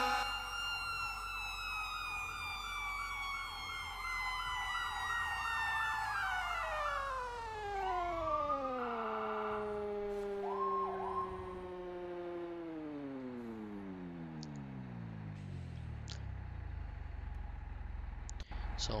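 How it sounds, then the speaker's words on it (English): Fire truck Q siren in the EmergeNYC video game, a loud wailing electronic tone that rises, then winds steadily down in pitch over many seconds, with other siren tones layered early on. "Then you hit your Q siren"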